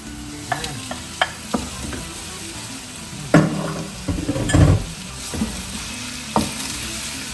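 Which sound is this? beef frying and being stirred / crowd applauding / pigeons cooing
beef frying and being stirred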